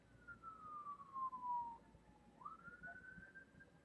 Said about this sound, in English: I hear an ambulance going by.